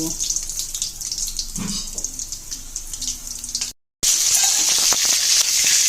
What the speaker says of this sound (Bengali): এখন বাকি চিকেনগুলোকে আমি এভাবে ভেজে নেব